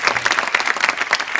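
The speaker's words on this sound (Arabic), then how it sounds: "سقف يا عم انت، اهو الجمهور يا عم اهو." An audience at a television prank show claps steadily, dense applause heard loud and close throughout the short burst.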